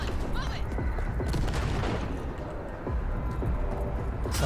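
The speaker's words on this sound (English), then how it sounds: "So is that heavy machine gun?" Dense, continuous heavy machine gun fire rattles in the Cyberpunk 2077 video game, loud sustained bursts with booming impacts layered over a busy combat mix.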